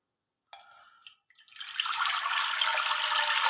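Water poured steadily into a pressure cooker holding rice, a rising rush of liquid after a few brief clinks, continuing close and loud for a couple of seconds without talk.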